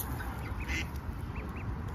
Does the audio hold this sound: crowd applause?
no